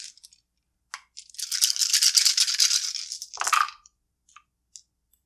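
Board game dice for Vivajava rattle and tumble across a table in a quick clattering roll lasting about two seconds, with a few scattered clicks before and after as they settle.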